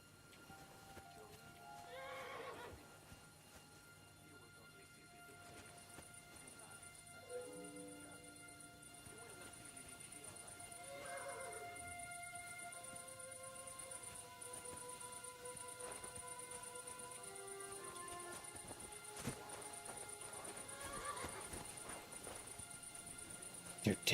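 Horses whinny and neigh inside a stable building in Kingdom Come Deliverance II, several drawn-out calls spaced across the scene, with hooves clip-clopping over a steady low background hum; no talk.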